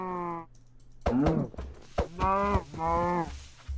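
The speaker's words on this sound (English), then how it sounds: "Okay, it was a cow." A Minecraft cow moos several times in drawn-out, low, groaning calls with short gaps between them, loud and close with no talk.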